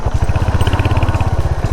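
A motorcycle engine on a short ride from Bengaluru runs close to the microphone, a loud, fast, even putter of firing pulses that holds steady throughout.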